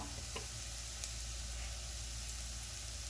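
Chili powder frying with ginger, garlic and green chili in oil for a chicken curry, a steady, close, even sizzle with faint ticking, heard alone.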